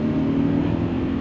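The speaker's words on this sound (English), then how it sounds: "the engine has some power" Engine of a cheap, unreliable BMW revving while driving, a loud, close, steady low drone with rumbling harmonics and no speech over it.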